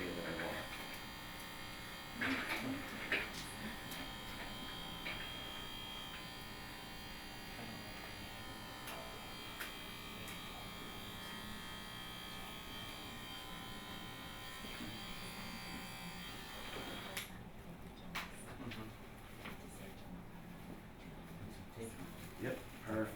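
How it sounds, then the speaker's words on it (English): Electric shaver buzzing steadily up close while shaving scalp hair before a hair transplant, a continuous drone that runs almost the whole time, with a few knocks and a brief change near the end. "I'm going to shave down first, just so we can get the"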